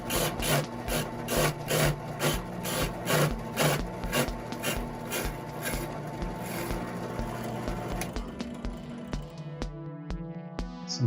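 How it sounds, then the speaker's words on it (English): A big drill bit bores through MDF while brackets are made for hanging a sign, giving a loud rasping, grinding drone with regular pulsing bursts that run steadily before winding down into a ringing, fading tail at the end. "a big drill bit going through some MDF."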